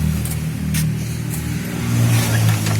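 Yamaha RX King two-stroke motorcycle with a modified exhaust revving, a raspy buzzing engine note rising and falling, close and loud with no talking.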